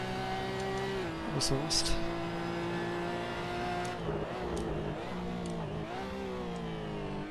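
A Porsche Cayman GT4 Clubsport engine in the Assetto Corsa racing game, revving steadily through a gear under braking and acceleration, a sustained tonal drone that dips and rises while someone speaks over it.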